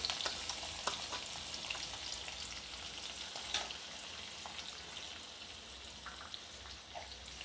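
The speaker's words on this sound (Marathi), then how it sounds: "हा एक मोठा कांदा बारीक कापून घेतलेला आहे मी याच्यात टाकायचं" Finely chopped large onion sizzling and frying in hot oil with a spoonful each of mustard seeds and cumin, a steady close crackle with scattered pops and stirring scrapes throughout, no talking.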